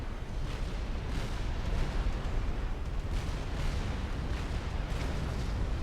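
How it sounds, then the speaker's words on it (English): Repeated nuclear explosions in the real-time strategy game Supreme Commander, heard as a steady, dense roar of rumbling blasts and booms that fills the whole stretch, loud and continuous. "The amount of nuclear explosions that have gone off in this game"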